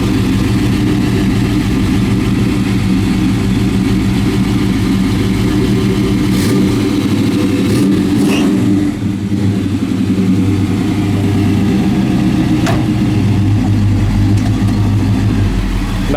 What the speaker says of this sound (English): Nice sounding dual exhaust.